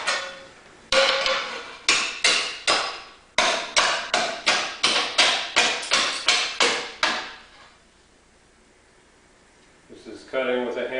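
A Storz French-style slate hammer made in Germany cuts slate against a slater's stake: a run of about fifteen sharp, close, evenly spaced chopping blows, followed by a quiet pause and a brief voice at the end.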